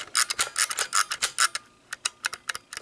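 A Kodak Signet 80 rangefinder camera's wind button is pressed to advance film, giving a rapid series of dry ratcheting rasps and clicks, close and fairly quiet, with no talking.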